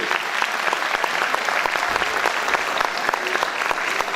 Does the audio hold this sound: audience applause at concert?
yes